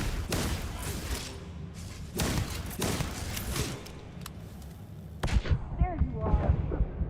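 Gunfire from a weapon in the sci-fi video game Shatter Space: heavy, booming shots in several separated bursts, loud and close, with thuds and other game effects around them.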